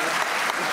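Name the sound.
applause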